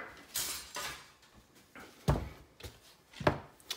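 A knife chops Honey Gold potatoes on a cutting board with a few sharp, uneven knocks and scraping sounds close by. No one talks.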